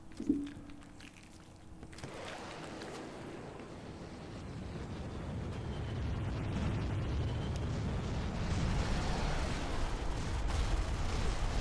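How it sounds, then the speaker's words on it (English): Airstrike explosions in the Space Station 13 video game: a sharp blast at the start, then a long rumbling roar that swells and stays loud and dense to the end, with no voices. "That's an airstrike. Close air support."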